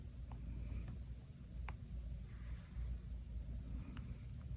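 A pen writes on a paper budget envelope with faint, brief scratching strokes over a low rumbling background, close but quiet.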